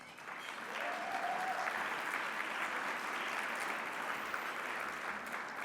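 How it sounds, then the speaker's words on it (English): A conference audience applauding, a dense sustained wash of clapping that swells in after a moment and holds steady, heard from within a large room. "Give yourselves a round of applause."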